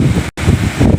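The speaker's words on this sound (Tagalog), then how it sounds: "nakikita nyo ang mga hampas ng hangin. Medyo malakas din ng konti." Strong typhoon wind gusts in Baler, Aurora roar across an outdoor microphone as loud, steady broadband rush, with a brief cut to silence partway through before the gusting resumes.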